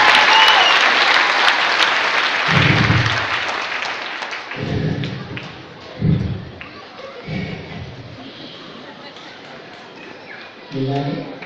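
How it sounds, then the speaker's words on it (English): A church congregation claps loudly in a dense burst of applause that gradually thins, while a voice speaks through it with heavy thumps from amplified speech. "Please clap to the Lord."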